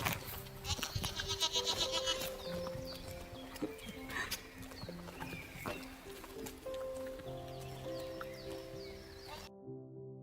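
Goats bleat on a small-scale Estonian goat farm in springtime, a few calls over rustling and hoof-like clatter, with a steady tonal hum underneath toward the end.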